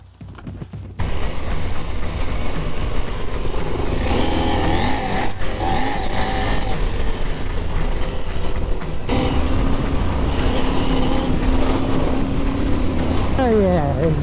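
KTM Adventure 790R motorcycle ridden off-road in the wet on the Trans Euro Trail, with a steady loud engine drone and heavy wind rush throughout, roughening as it works through ruts.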